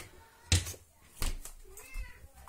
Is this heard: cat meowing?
yes